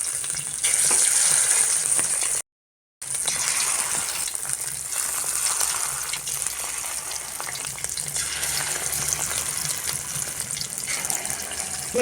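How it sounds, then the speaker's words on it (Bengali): Small fish roe fritters fry in a little oil, making a continuous close sizzle with a brief gap of silence early on; no one talks. "এই যে বড়াগুলো আমি ছোটো ছোটো করে ভাজি নিই। এই মাছের ডিমের বড়া কম তেলত ভাজি নেবে।"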